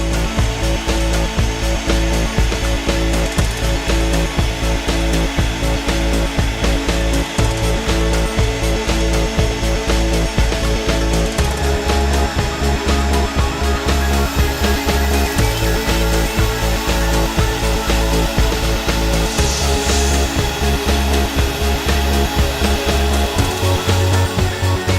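A CNC mill cutting aluminium with coolant dropped on the workpiece, producing a loud, continuous tonal whine and chatter that shifts pitch in stages over a long stretch, with no voices.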